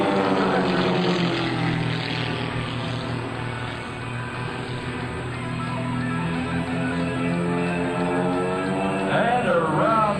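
Propeller engine of a Split Image Team aerobatic airplane at an air show, performing a hammerhead, a strong harmonic drone that shifts in pitch as the maneuver changes power, heard from a distance with faint crowd ambience.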